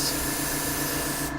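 An airbrush driven by a compressor sprays paint for weathering a hobby model, giving a steady close hiss with a low hum beneath that cuts off at the end.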